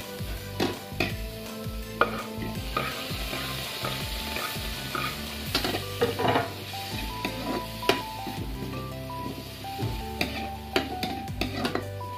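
Onion, garlic and ginger frying in a spoonful of oil in a home kitchen, with a steady sizzle and occasional stirring scrapes and clinks, close and continuous with no talk.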